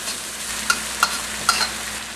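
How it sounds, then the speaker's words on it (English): Shallots, garlic and ginger sauté in a pan for Nyonya chicken, with a steady soft sizzle broken by three brief stirring clinks of a utensil against the pan, no voices. "garlic, the shallots actually, garlic and ginger are sauteing"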